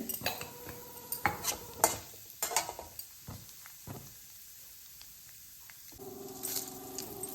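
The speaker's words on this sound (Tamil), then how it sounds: "கடலைப்பருப்பு உளுந்த பருப்பு நல்லா வந்து ஃப்ரை ஆகட்டும்" Chana dal, urad dal and mustard seeds fry in hot oil with a light crackling sizzle, while a metal spoon clinks and scrapes against the pan in quick bursts; the sizzle eases midway, then a stronger hiss returns near the end.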